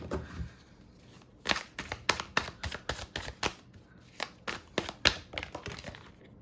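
Tarot cards are shuffled by hand for a reading, a close series of crisp slapping and riffling flicks in an uneven rhythm, with a short quiet gap partway through.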